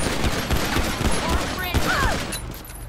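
Gunfire in the video game GTA V with the LSPDFR police mod, a burst of several quick shots over background noise, fairly loud, with a faint voice mixed in.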